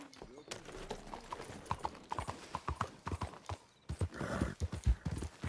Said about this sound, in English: Oh, I got my horse back.